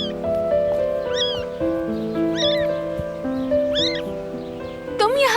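A pet cat in a domestic scene meows three times in short rising cries over steady background music, ending with a louder, strained cry.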